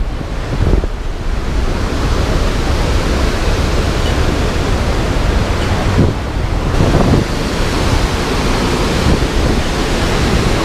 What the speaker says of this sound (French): Voilà les chutes.